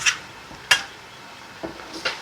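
Mint leaves sautéed in a pan for tomato rice, a few sharp metallic scrapes and clinks of a spoon against the pan, spaced apart over a faint background hiss.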